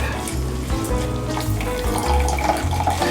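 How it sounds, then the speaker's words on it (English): Celery juice is squeezed from a netted bag into a measuring cup, giving a close, steady pouring and dribbling of liquid with slight squishing, continuous and fairly loud, with no talking. "we're going to squeeze the juice out of the netted bag into our measuring cup"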